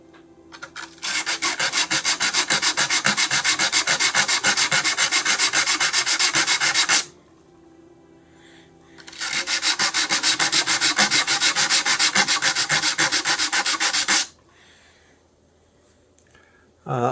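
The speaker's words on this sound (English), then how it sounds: "I'll just sand a bit more off there." Hand sanding of sharp, chipped edges on a small craft piece to be finished with resin: two long bursts of loud, rapid, rasping back-and-forth strokes separated by a short pause, close up, no talking.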